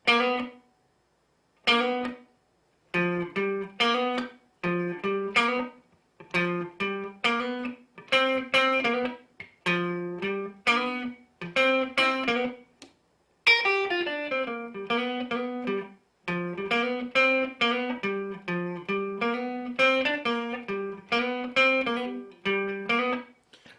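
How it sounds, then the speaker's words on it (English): Distorted electric guitar plays a bluesy lick in repeated phrases, quick hammered-on notes sliding between pitches, played alone with short gaps. "We're going to do this little hammer-on thing that I love to do"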